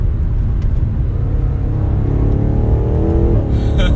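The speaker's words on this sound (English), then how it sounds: "Let's hear some of those downshifts again." 2022 BMW M8 Competition Gran Coupe exhaust rumbles loud and close from inside the moving car, with a deep steady drone and engine tone shifting as the car downshifts, ending in a brief sharp burble.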